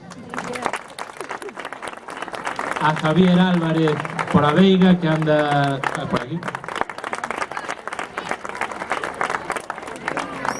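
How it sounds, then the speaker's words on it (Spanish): Audience applause at a school charity concert launching a CD, a steady wash of clapping under an announcer speaking over a microphone, swelling in the middle and continuing throughout. "un forte aplauso"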